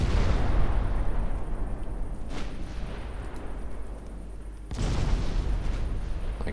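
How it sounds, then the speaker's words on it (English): Naval secondary and main guns firing in the Ultimate Admiral Dreadnoughts game: a heavy low rumbling boom that fades, a sharper crack, then another loud deep blast, near and powerful, with no voices. "See the work the secondaries are doing versus the work the main guns are doing."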